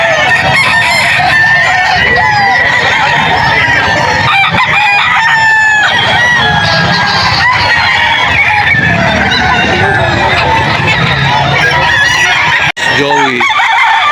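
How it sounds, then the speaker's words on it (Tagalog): Several roosters crow loudly, overlapping one another, while hens cluck constantly close by in a noisy, crowded flock at a poultry market in Bocaue, Bulacan. "Dami ng dalang manok ngayon."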